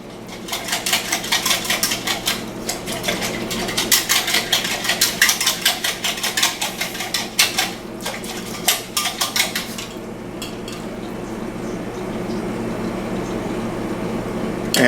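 Brown gravy mix whisked in a pan, a rapid rhythmic metallic scraping and clatter of a whisk against the pan, close and loud for about ten seconds before fading to quiet kitchen background.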